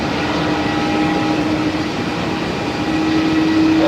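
An Airbus A330 airliner takes off at Melbourne Airport, heard as a loud, continuous jet engine roar with steady whining tones throughout.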